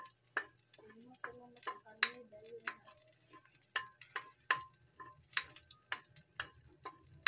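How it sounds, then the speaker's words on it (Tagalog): Pork sautéing in a pan while a utensil stirs, giving a quiet sizzle under a run of sharp, irregular scraping clicks and taps that keep going throughout. "Gisahin na natin yan."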